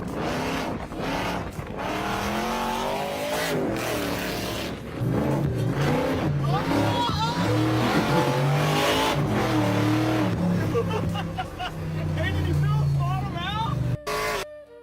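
An 850-horsepower supercharged Ford van engine revs hard and loud throughout, with people talking and exclaiming over the engine noise.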